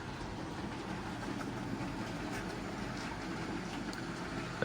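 A 1978 Hornby model breakdown train carrying two cranes running on a layout, a soft continuous rolling rumble with faint clickety-clack of wheels, no voices.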